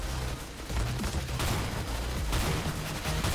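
A shotgun firing in the video game CS:GO, heard as dense, continuous loud gunfire with overlapping blasts and no pauses throughout.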